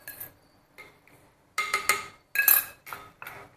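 Spoon scraping and clinking against a metal pot while a milk and khoa mixture is stirred, several sharp, close knocks and taps in short irregular bursts with quiet gaps between them.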